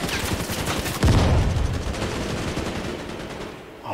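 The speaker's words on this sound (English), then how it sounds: "He's shooting at me again." Dense, loud gunfire in a video game shooter, rapid overlapping shots with a heavy boom about a second in, continuing as a steady barrage before tapering off.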